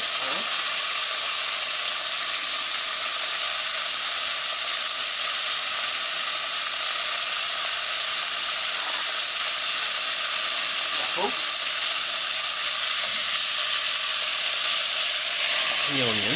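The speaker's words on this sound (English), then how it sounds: "now that your margarine's melted, we'll start putting in the meat" Beef dropped into melted margarine in a pan, a steady broad sizzle and hiss throughout with a few faint stirring knocks, no talking over it.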